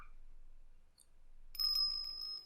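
A bright, sustained electronic bell chime rings out in the Ace Attorney Investigations game after a stretch of near silence, clear and fairly loud with a ringing tone that holds to the end.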